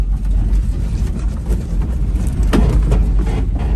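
A 1977 Toyota Hilux Chinook camper, revived after sitting abandoned for 20 years, runs and drives with its carbureted engine giving a loud, low rumbling drone, heard from inside amid road and rattling noises.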